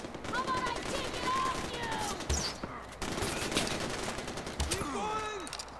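Gunfire in the video game Far Cry 4, with rapid bursts of shots crackling over a busy background, ricochet-like whistles and whines, and sharp louder blasts standing out at a few points.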